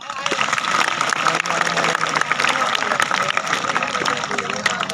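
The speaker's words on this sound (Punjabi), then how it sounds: "ਤਾੜੀ ਬੰਦੀ ਆ" Audience applause at a live stage performance, dense continuous clapping from many hands, loud and close, lasting throughout with faint crowd noise mixed in.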